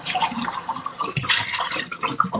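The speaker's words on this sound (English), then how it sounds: "Just going to drain the liquid off there." Pickling liquid from sliced beets pours off in a steady, close splashing trickle, running without pause and with no voices over it.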